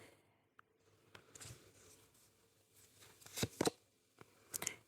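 Tarot cards being shuffled and drawn close up: soft riffling and sliding with a few crisp snaps and flicks, sporadic and quiet, with no speech.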